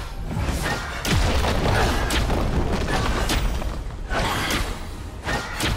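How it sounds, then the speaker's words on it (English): Booming crashes and heavy thuds from a League of Legends match as a turret is destroyed, with several loud impacts rolling through a dense, busy game mix. "Blue team's turret has been destroyed."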